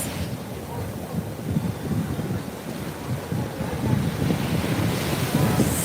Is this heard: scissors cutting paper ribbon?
no